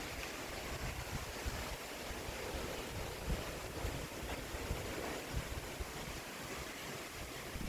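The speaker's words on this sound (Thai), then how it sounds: "ลมซุยๆพี่น้อง" Steady outdoor wind in cool, calm countryside air, a continuous broadband rush with gusty rumble close to the microphone, sounding almost like surf, with no voices.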